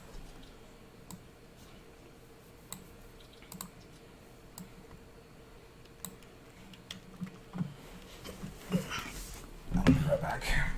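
Quiet, irregular clicking of computer keyboard keys at close range, scattered sparse taps over a faint hum, growing busier and louder near the end.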